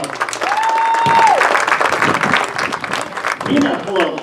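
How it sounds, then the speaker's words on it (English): High school graduation crowd applauding an absent graduate, a broad clapping wash running under a voice and a sustained tone, moderately loud and steady. "He's not here with us, but he still deserves applause."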